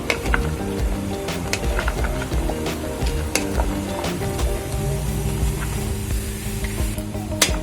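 A coconut barfi mixture with sugar bubbles and sizzles steadily in a pan, a dense, continuous hiss with small spits and pops throughout, and no voices.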